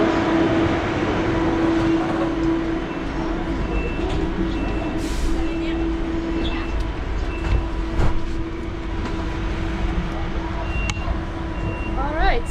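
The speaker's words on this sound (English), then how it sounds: "Alright, so I'm on the train." Steady rumble and hum inside the KLIA airport train to KL Sentral, with faint clicks and rattles, under a nearby voice talking throughout.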